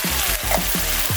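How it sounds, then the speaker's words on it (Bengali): Ground fennel and other spices fry in hot oil for a beef curry, a dense, close, steady sizzle with no pauses or voices. "দেখেন মশলাটা ভাজা হচ্ছে।"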